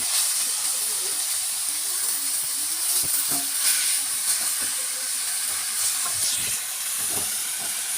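Ground pork filling for lumpia shanghai, with kinchay, carrots and onion, sautés in a pan with a steady bright hiss and sizzle, close and continuous, with faint scattered clinks and soft talk underneath.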